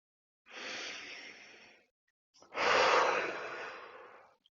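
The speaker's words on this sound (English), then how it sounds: "let's take 3 deep breaths while we're here" Two deep breaths during a yoga stretch, close and audible: a long airy inhale or exhale, a short pause, then a stronger, longer breath that tapers off.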